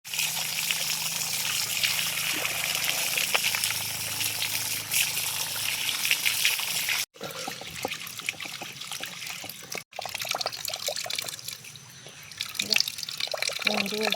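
Cut fish, rubbed with salt to remove its slime, being rinsed and washed in water at home, giving a steady splashing, trickling wash that runs nearly continuously with two brief breaks, while a person talks throughout.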